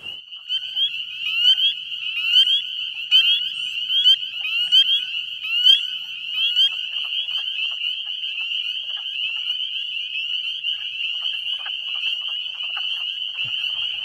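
A dense chorus of high, piping spring peeper frog calls at breeding pools rings steadily and shrill, with many peeps overlapping in a continuous, insistent wash.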